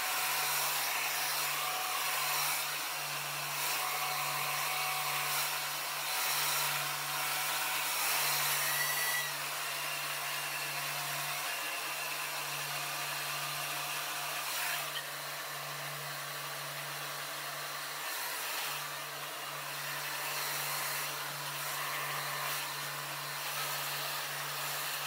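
A hair blower drying hair runs continuously for the whole stretch, a steady close whoosh with a constant low motor hum and slight shifts in airflow, with no one talking.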